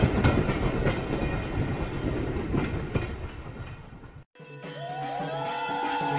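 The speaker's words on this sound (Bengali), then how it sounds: "পরের দিন ভোর ৬টার ট্রেনে কলকাতা যাত্রা করল।" A train runs at a steady, loud rumble with a dense, continuous roar; after a brief dropout near the end, a cleaner rail sound follows with a rising tonal squeal and a rhythmic pulse.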